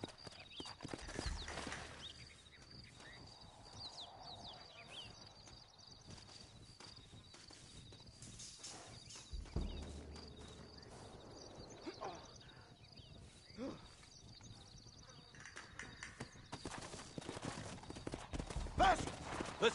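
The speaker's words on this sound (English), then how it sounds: "Carlos left us some horses." Horse hooves clip-clop at a walking pace in Red Dead Redemption on PS5, fairly quiet and irregular, with occasional rustling and soft background noise between the steps.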